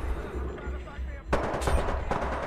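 Gunfire in the Titanfall 2 video game, a burst of loud shots breaking in mid-clip over a steady low game rumble.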